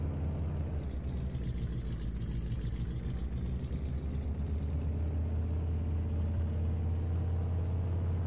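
Old truck with a four-speed manual transmission in Farming Simulator 22, engine droning steadily at a low, rumbling pitch throughout, close and even with no talk.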